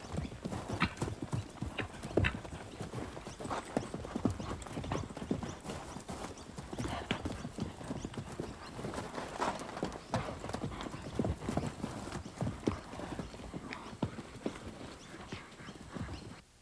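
Hooves of two horses trotting together in a doubling training exercise give a steady, close, continuous clip-clop with no voices, as riders work the pair at once.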